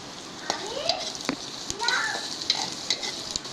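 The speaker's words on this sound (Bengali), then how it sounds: "পেঁয়াজ কুচিটাকে একটু লাল করে ভেজে নিব" Chopped onion frying in mustard oil with bay leaf, cinnamon and cloves, a moderate sizzle broken by clicks and utensil knocks, with voices in the background that sound like a child.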